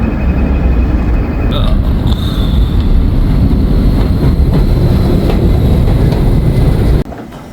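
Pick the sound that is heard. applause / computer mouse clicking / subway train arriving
subway train arriving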